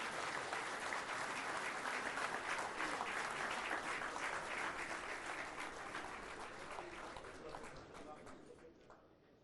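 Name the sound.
audience applause as the Prime Ministers leave the hall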